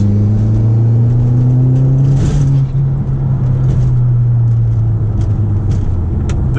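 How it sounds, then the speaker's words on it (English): Tuned 1.8T Stage 2 Volkswagen Golf making over 300 lb-ft of torque, heard from inside as the engine pulls hard, a loud continuous droning rumble with rising pitch, steady and close throughout. "you know you're going fast in this car, or it feels like you're going fast in this car because of the noise"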